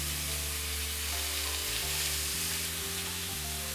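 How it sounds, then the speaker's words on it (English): Tuna steaks sear in a very hot pan, giving a steady, loud, close sizzle and frying hiss throughout with no speech. "Searing hot pan, and I am literally just going to pop the tuna steaks"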